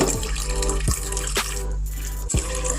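Tap water running steadily over peeled yellow yam and sweet potato in a sink, a continuous close wash with a few sharper splashes and knocks as the food is handled.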